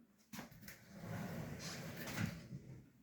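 Sliding door of a four-door premium wardrobe rolling smoothly along its track, a low rumbling glide lasting a few seconds with a soft thud at the start, moderately quiet and close.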